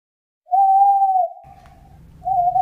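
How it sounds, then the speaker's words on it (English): An owl gives a long, clear, steady hoot, and after a low rumbling pause a second hoot begins. "owl, chicken,"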